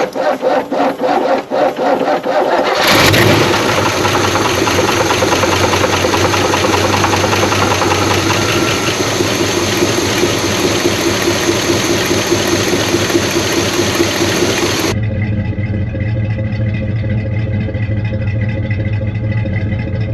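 An old truck engine, unrun for 17 years and freshly oiled, cranks and catches after a few seconds, then runs loud and steady with a rough, knocking idle that eases slightly near the end.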